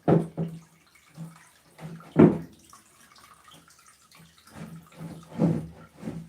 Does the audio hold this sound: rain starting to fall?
no